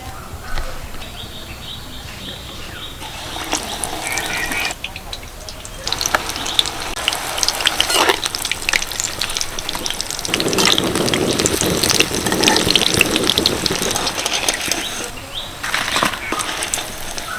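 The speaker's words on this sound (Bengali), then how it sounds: "দেখুন প্রথম তিনটে লঙ্কার চপ কত সুন্দরভাবে ভাজা হয়ে গেছে" Large chili pepper chops stuffed with potato fry in a pan of oil, giving a continuous loud sizzle and bubbling with occasional clatter, growing busier toward the end.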